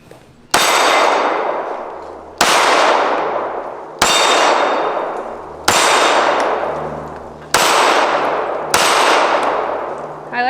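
Springfield Prodigy 1911 DS pistol firing six sharp, loud shots at an even pace about two seconds apart, each crack ringing out and decaying before the next.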